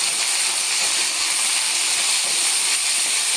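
Potato and brinjal sauté in hot oil for a thatta payaru kulambu, giving a steady, close, dense hiss and sizzle that continues without a break through the short stretch.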